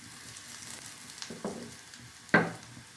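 Red chilli pieces and curry leaves frying in hot oil, a soft steady sizzle with a couple of sharp stirring scrapes and crackles, the loudest near the end.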